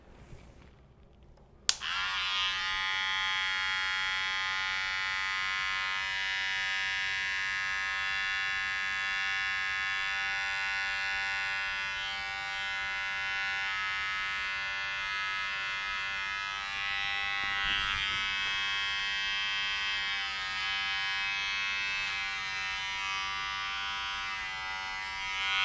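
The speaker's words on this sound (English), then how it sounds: "then let's go in with the trimmer." An electric hair trimmer buzzes steadily and loudly during a taper fade haircut, switching on after a brief quiet moment and then running continuously with small shifts as it cuts hair.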